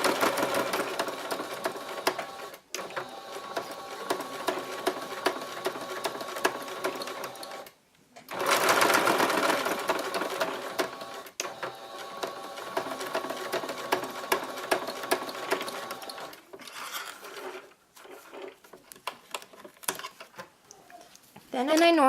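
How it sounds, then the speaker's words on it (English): A sewing machine stitches forward and then back-stitches along the full length of a key fob wristlet, its fast, steady mechanical whir running in long bursts broken by brief pauses, with a person talking over parts of it. "I back stitch the whole length back through"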